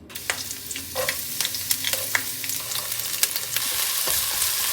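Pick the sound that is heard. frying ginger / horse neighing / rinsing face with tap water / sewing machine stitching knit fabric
frying ginger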